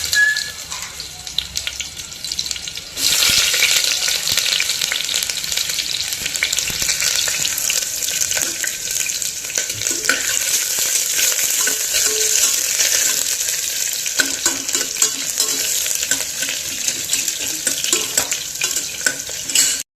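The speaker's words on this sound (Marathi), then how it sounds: "कांदा घालतोय आपण" Chopped onion hisses and sizzles as it is stirred into about a tablespoon of hot oil for a tempering. The sizzle starts after a short quieter moment, then stays loud, steady and close for the rest of the clip.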